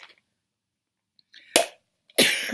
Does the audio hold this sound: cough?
yes